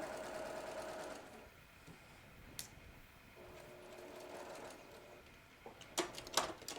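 A sewing machine stitches a quarter-inch seam in quiet, faint bursts of rapid mechanical whirring, separated by a low steady hum and a few soft clicks and handling knocks.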